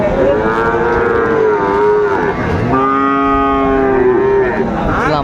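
Friesian cross bull calf at a cattle market in Dinajpur, lowing in long, loud, drawn-out moos close by, two sustained calls with a brief break between them and busy market noise underneath.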